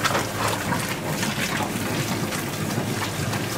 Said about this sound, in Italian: aggiungiamo l'acqua poco alla volta